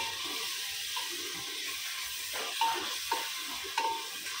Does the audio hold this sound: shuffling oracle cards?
no